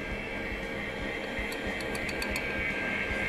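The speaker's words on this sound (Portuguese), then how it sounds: "Dá um tempinho pra batedeira, dá uma chance pra ela." Electric mixer beating pineapple cake batter, giving a steady, even whirring hum throughout with no talking.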